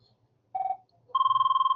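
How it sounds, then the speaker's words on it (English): A telephone rings in a quiet indoor room at a talking book library, one short electronic trill and then a longer one, fairly close and clear with nothing else behind it. "sorry about the phone ringing"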